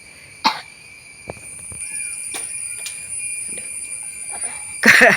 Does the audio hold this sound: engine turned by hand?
no